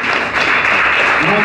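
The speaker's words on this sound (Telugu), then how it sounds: "చప్పట్లు కొట్టినందు" Applause from a church congregation during a Telugu sermon, a dense continuous patter of clapping that fills the short stretch at steady loudness, with a voice starting to speak near the end.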